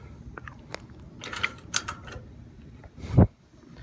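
Metallic clicks and rattles build to one sharp, loud clunk as an anti-theft trailer lock is clamped onto a boat trailer coupler, then quiet.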